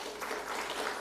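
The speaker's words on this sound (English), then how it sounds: "you must not be afraid to clap" Faint, steady applause from a seminar audience at a BRICS TVET institution forum, a thin wash of scattered clapping held at low level.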